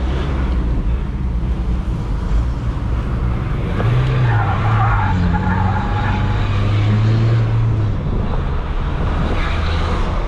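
A chipped Volkswagen Amarok 2.0 pickup with a straight exhaust accelerates hard, a loud continuous engine roar with rising and falling tones as it revs through the gears, heard from close by.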